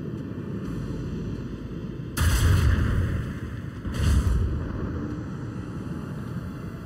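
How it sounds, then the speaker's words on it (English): Macro cannons firing in the video game Warhammer 40k: Rogue Trader, two heavy booming volleys a couple of seconds apart that rise over a continuous low rumble of space-battle ambience. "Unleash the storm of macro cannons."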